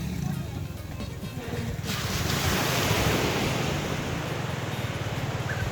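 Surf breaking on a beach in the Gambia, a steady broad wash of waves with wind buffeting the microphone, the roar swelling after the first couple of seconds and holding loud and close.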